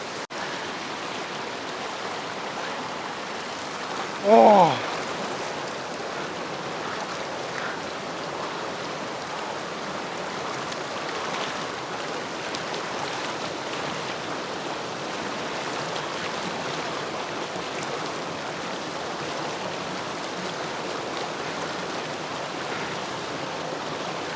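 A river rushes in a continuous, even roar throughout, with one brief louder splash-like burst early on.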